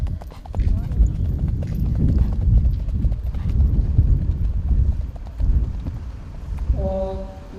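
Steady, loud clip-clop of horse hooves on a competition track as a chestnut horse enters at an Icelandic horse meet, continuous rhythmic footfalls with a neigh-like tone near the end.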